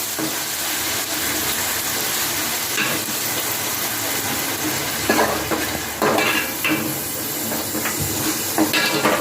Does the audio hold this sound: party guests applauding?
no